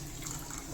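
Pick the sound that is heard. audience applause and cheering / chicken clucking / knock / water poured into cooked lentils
water poured into cooked lentils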